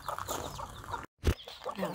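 A Wyandotte hen clucks softly outdoors in low, short calls, fairly faint against background noise, with a brief silent gap partway through.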